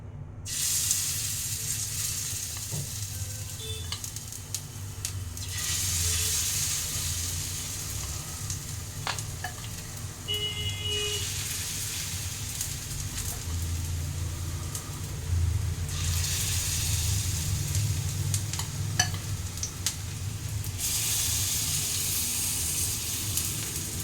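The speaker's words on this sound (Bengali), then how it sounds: "তেলটা আমার গরম হয়ে গেছে, আমি এবার চামচে করে ছোট ছোট বড়ার আকারে ভাজবো।" Small bitter gourd fritters fry in hot mustard oil, giving a steady, close, continuous sizzle and crackle that swells and eases slightly across the whole stretch, with no voices.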